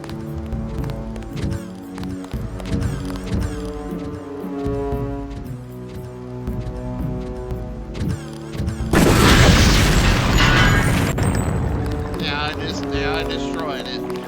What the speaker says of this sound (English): I'm gonna shoot the TNT here